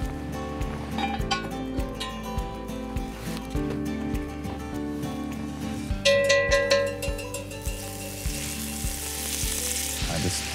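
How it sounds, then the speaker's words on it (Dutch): Meat for a venison goulash sizzles and spits in butter in a hot pan, a loud continuous crackle with scraping stirs and a brighter surge of frying partway through. "We gaan verder met het bakken van het vlees en dat doen we in roomboter."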